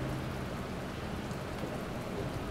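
Steady rain falls on an empty street at night, a dense, even patter of drops continuing without pause at low volume and with no voices.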